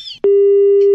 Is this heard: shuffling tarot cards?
no